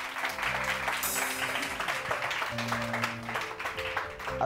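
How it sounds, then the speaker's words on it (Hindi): An audience claps steadily on a TV morning show set while background music with sustained tones plays underneath, the clapping moderately loud and continuous throughout. "आप लोग मेरे लिए ज़रा ज़ोर से तालियां बजाएं"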